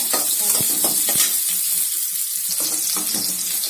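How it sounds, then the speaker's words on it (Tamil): Carrot, beans and radish stir-fry sizzles loudly in a pan, a dense continuous hiss broken by repeated scrapes and stirs of a spatula, close and without speech. "நல்லா வதங்குங்க."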